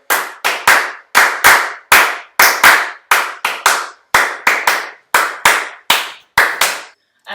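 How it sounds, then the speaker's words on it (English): Hands clapping out a dance step rhythm, sharp close claps in quick groups of two and three with short pauses between, loud and alone with no talking. "if we just clap out that rhythm, just so you can hear it"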